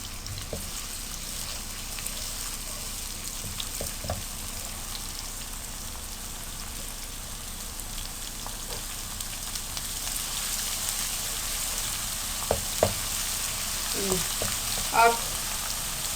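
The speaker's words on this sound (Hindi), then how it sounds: "मैंने इसमें तकरीबन 1 टीस्पून धनिया पाउडर भी शामिल किया है और 1 मिनट के लिए इसे फ्राई करें।" Chicken tikka masala paste with coriander powder frying in a pan, a dense continuous sizzle like light rain with occasional soft stirring clicks toward the end.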